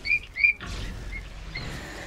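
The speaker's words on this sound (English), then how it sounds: "Oh, that's your guinea pig." Guinea pig squeaking with two short high-pitched chirps close by, followed by softer rustling and a faint later squeak over low background noise.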